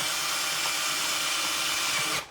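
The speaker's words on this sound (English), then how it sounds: "I'm going to take this out for just a second and drill in the tree next to where it would" A power drill runs steadily as it bores into a tree trunk outdoors during treehouse building, a loud continuous whine that cuts off abruptly at the end.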